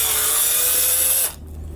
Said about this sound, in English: we've got the new drill in